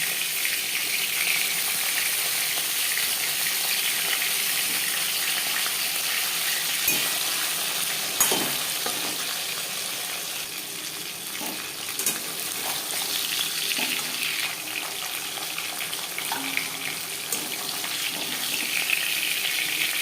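Tilapia pieces frying in hot refined oil give a continuous close sizzle that rises and dips as the fish is turned, with occasional scraping and clinks from a spatula, no talk.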